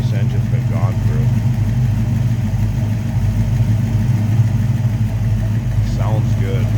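A 1991 Ford Mustang LX convertible's rebuilt engine runs steadily nearby, a loud even idle with a deep low rumble and a couple of brief sounds over it.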